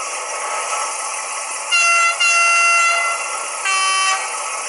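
A Rivarossi HO DB DE18 diesel locomotive model with a DCC sound decoder plays a steady engine drone, broken by two loud, bright horn blasts, the first briefly interrupted.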